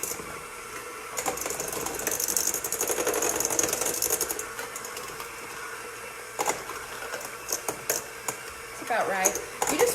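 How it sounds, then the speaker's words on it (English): An electric mixer creams butter and sugar for a gluten-free birthday cake, whirring and rattling in bursts with intermittent clatter against the bowl while a person talks over it. "this process is called creaming the butter and the sugar together"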